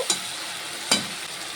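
Fried potatoes land in cooked masala in a pan for a prawn and taro curry. Two short, sharp bursts of sizzling are heard, each fading quickly into a soft hiss, with no voices.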